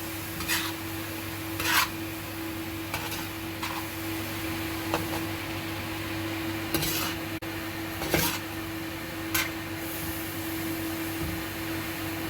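A spoon scrapes and stirs minced mutton keema with onion and tomato in a pan, dhaba-style tawa keema, in intermittent close scraping strokes over a steady background hum.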